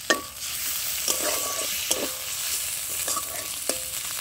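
Onions fry with ginger and garlic in a pan, giving a steady close sizzle broken by several sharp stirring scrapes and knocks, with no talking.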